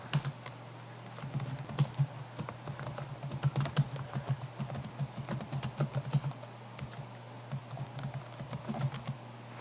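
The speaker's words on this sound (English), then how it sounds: "you are going to type then whatever you want to type" Typing on a computer keyboard, close and fairly quiet, with irregular bursts of rapid key clicks and brief pauses throughout.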